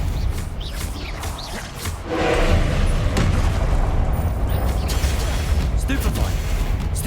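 Stupefy spell casts during a Hogwarts Legacy duel, a burst of booming magical impacts and whooshes that swells midway and carries on under continuous dense battle noise, with game music and effects layered throughout.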